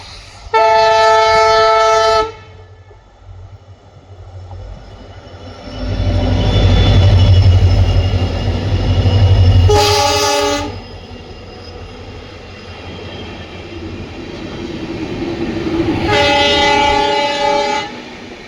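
A Hospet to Davangere passenger train sounds three long, loud horn blasts, one at the start, one in the middle and one at the end, between them a heavy rumble of rolling wheels and carriages close by.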